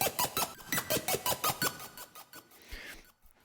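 A rhythmic run of short, bright synth stabs pulses quickly and evenly, then thins out into softer, trailing notes that fade near the end.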